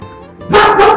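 A big Sheepadoodle barks loudly and close, a single burst of barking that cuts in about halfway through after a quieter stretch of room sound.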